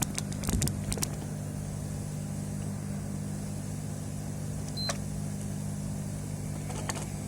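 A repaired PS4 power supply fan keeps up a steady, even whirring hum, with a few sharp clicks near the start and a faint tick midway.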